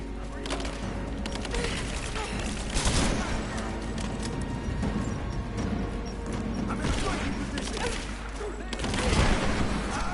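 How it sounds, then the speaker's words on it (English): Grenade blasts and bursts of gunfire in a Tomb Raider combat scene, dense and continuous with heavy booms and rattling shots, with a voice talking over it. "sounds like these guys have grenades"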